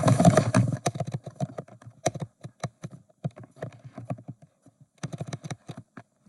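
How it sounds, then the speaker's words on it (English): Typing on a computer keyboard: a burst of dense keystrokes, then scattered, irregular clicks with pauses, close and clear, no voice. "I can type here."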